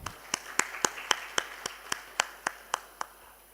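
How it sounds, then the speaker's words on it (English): A few slow, evenly spaced hand claps ring out at a disaster-management symposium panel, about a dozen sharp claps in steady rhythm over quiet room tone, sparse rather than full applause. "Could I have a round of applause for all the panelists"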